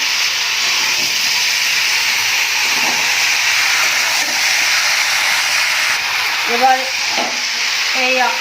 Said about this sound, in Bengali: আলুটা আমি প্রেশার কুকারের মধ্যে দিয়ে দু তিনটে সিটি মেরে নেব